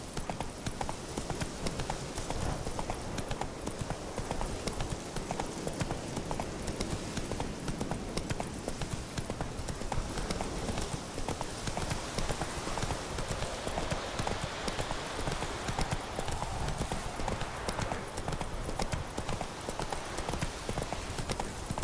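A horse gallops in the video game Witcher 3, a steady, close drumming of hoofbeats that continues throughout with a faint wash of wind and ambient noise.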